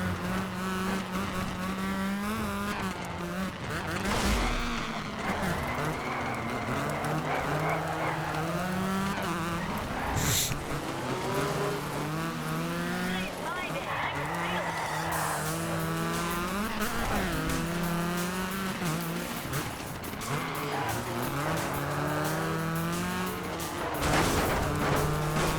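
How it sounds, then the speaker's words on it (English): Loud, continuous engine revving and tire squeal from cars in the rally racing video game DiRT 2, including an RS200, with shifting pitch as the engines rev and skid through corners and no talking. "Dirt 2 does have some banger engine sounds."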